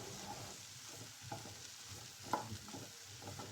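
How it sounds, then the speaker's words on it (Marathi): Ridge gourd and chana dal sabzi with garam masala and salt being stirred in a pan, a soft, continuous sizzle with light scraping and a single sharper clink near the end. "आता सगळे मसाले भाजीमध्ये व्यवस्थित मिक्स करून घ्यायचे."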